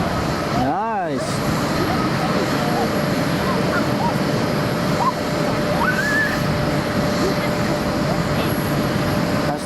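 A KLM airliner jet arrives at Amsterdam Schiphol Airport, its engine roar a steady, loud broadband rumble throughout, with a passing sweep early on and faint bird chirps on top.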